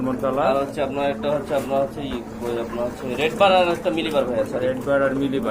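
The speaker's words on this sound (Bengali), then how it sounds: "খুবই সুন্দর কবুতর মাশাআল্লাহ" Pigeons in a collection cooing in low, rolling bursts close by, mixed with people talking over them throughout.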